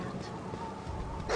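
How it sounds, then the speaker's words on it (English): A wild dog in the Baldur's Gate video game makes faint, low whining and growling sounds over a steady background hum, ending in a slightly louder rasp. "No, a wild dog."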